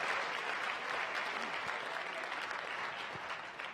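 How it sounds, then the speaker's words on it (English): A crowd at a city State of the City address applauds the performing artists, including a school rock band, with steady, fairly distant clapping that continues throughout. "Let's give a round of applause for all our artists who have performed here today"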